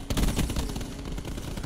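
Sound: gunfire in Call of Duty video game match

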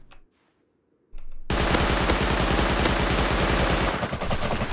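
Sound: AK rifle gunfire in the video game Rust

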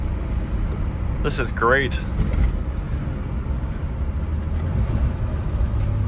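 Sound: BMW E30 325is car driving

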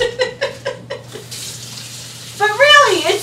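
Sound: water running from a tap, rinsing hands and seasoning packet

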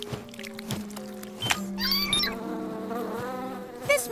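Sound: bees buzzing by flapping their wings

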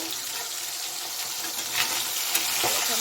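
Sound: fish frying in a pan

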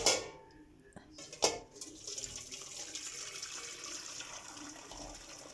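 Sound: pouring lentil soup into a strainer

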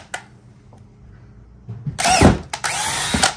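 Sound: power drill drilling holes into Jeep parts

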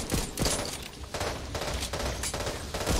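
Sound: gunfire in video game Back 4 Blood

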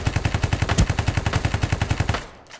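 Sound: SMG gunfire in Ring of Elysium video game

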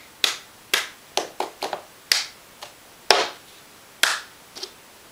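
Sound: cup song rhythm of hand claps and cup taps

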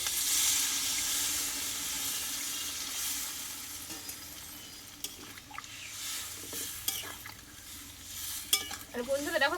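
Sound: hot water poured into frying mutton curry

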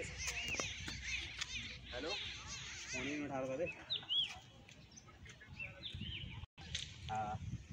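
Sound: birds chirping in forest

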